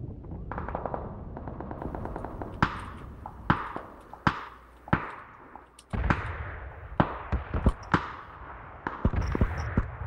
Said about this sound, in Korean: 2번님 쪽 총소리인데?